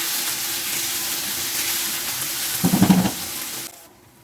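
Onion and tomatoes frying together in a pan, a continuous loud sizzle with a brief burst of stirring near the end before the sound drops away.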